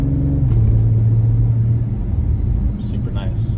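Audi RS5 Sportback engine in sport mode while driving, a steady low rumble and drone that shifts in pitch as the car moves, heard from inside the cabin.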